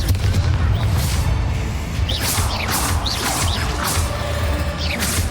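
The Confringo fire spell in Hogwarts Legacy blasts out as a loud, continuous roar of booms and whooshing bursts, with several swishing sweeps in the middle, filling the whole stretch without pause.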